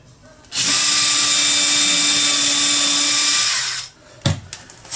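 A power drill bores a pilot hole into 18mm timber, a loud, close, high whine lasting about three seconds before spinning down, followed by a couple of brief knocks.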